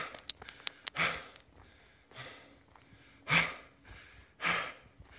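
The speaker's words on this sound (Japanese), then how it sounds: "息切れです。" Heavy, out-of-breath panting from a hiker on a mountain trail up Mount Nandai, with several loud, ragged breaths and sniffs spaced a second or so apart, close to the microphone, with quiet gaps between them.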